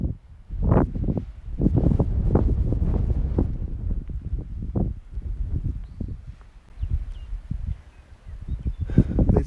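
Strong wind gusts at a hiking campsite, a loud, steady rushing roar buffeting the microphone with rustling bursts, easing briefly near the end before rising again.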